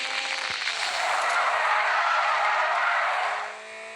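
In a video game race, a race car skids through a turn, its engine whining under a long, loud tire screech that swells over a few seconds and then drops off sharply at the end.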